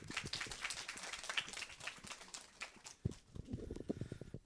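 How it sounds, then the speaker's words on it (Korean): An audience at a student information session claps again, scattered hands patting for a few seconds, thinning out toward the end with a few louder individual claps, quiet and somewhat distant. "한 번 더 박수 부탁드리겠습니다."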